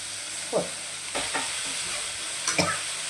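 Green chilli, curry leaves and tomato sizzle in a hot pan with a steady frying hiss, broken by a few scraping stirs of a spoon.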